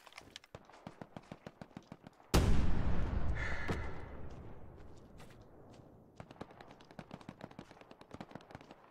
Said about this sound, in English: Oh, it's artillery!